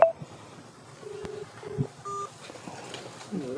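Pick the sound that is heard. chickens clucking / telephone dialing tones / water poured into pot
telephone dialing tones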